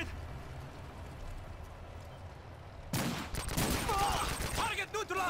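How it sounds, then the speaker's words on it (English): In Call of Duty MW3 a stun grenade goes off abruptly after a stretch of low background noise. Rapid gunfire and clattering bursts follow, loud and close. "Stun grenade!"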